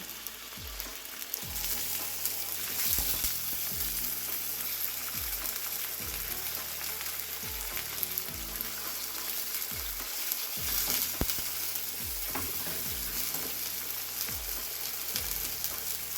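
Thin pork chops frying in a pan for honey-garlic chops, a continuous loud sizzle and crackle with occasional spatters, steady throughout with no talking.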